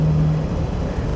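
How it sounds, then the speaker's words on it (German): A 1955 Jaguar XK140 drophead coupé, nearly seventy years old and in original condition, drives along with a steady, loud low engine drone and road noise, no voices. "dafür, dass er fast 70 Jahre alt ist, fährt das Auto wirklich toll"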